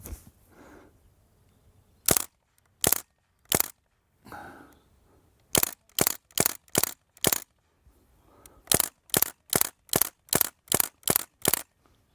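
An Umarex Legends MP German airgun fires single shots, crisp sharp cracks spaced about half a second apart in short strings of three to eight, with cocking clicks and handling noise between the groups.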